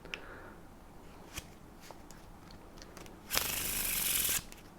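A deck of playing cards is faro shuffled, giving soft scattered ticks and card handling, then about a second of dense, crisp riffling close by, all quiet and with no speech.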